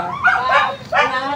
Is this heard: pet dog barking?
yes